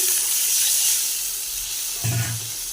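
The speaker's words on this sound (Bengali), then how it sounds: "আমি জল দিয়ে দিচ্ছি" Water hits a hot pan with a soft hissing steam that fades, then a brief low bubbling burst near the end, heard close and fairly quiet with no talking.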